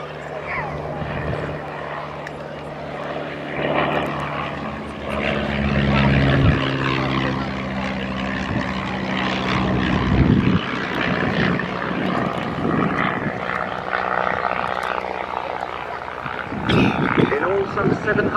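A Miles Magister propeller trainer flying at the RAF Valley Family Day air display, its engine droning steadily and rising and falling in pitch as it passes, fairly loud throughout.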